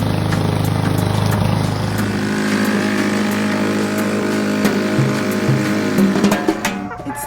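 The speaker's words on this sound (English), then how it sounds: "First mowing of the season." A lawn mower runs steadily through the first spring mowing of a yard, a loud, continuous engine drone that eases off near the end.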